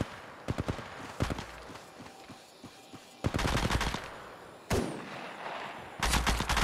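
Rapid automatic gunfire in Apex Legends Mobile, loud bursts of shots in short rattling strings separated by quieter gaps, with a few scattered single reports and faint footsteps between.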